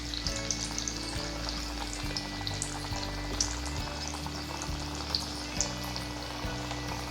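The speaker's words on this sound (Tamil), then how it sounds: "ஸ்டவ்வில் எண்ணெய் வச்சுருக்கிறேன். இதில் ஒன்றா போட்டுடலாம்." Matar dice snacks dropped into a pan of hot oil on a stove, frying with a steady, dense crackling sizzle that carries on without a break, close and fairly loud, with no talking.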